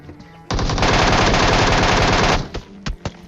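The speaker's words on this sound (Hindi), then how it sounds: "जितना डैमेज होता है ना MK14 का उतना ही इसको चलाना मुश्किल भी होता है" An MK14 rifle in a video game fires one long, loud uninterrupted burst of rapid shots, followed by two or three short separate shots as it tails off.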